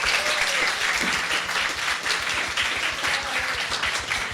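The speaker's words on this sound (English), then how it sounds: "Please give a quick round of applause for our amazing panelists." Applause from a conference audience for a panel at a blockchain event in Toronto, dense steady clapping filling the room for a few seconds, with a faint voice briefly audible underneath.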